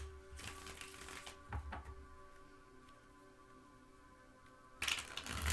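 Tarot cards are shuffled in quick, dry riffling bursts, a soft flutter at the start and a louder one near the end, with quieter handling between.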